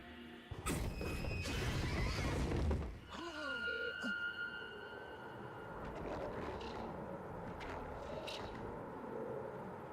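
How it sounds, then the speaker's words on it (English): A mutated, snake-like horse monster in a video game lets out a loud, harsh whinny, with heavy thuds and a rumbling roar around it, followed by quieter game ambience. "It's a horse!"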